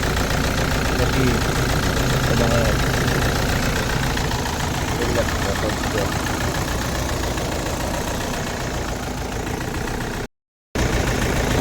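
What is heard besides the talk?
car engine idling after rats cut wires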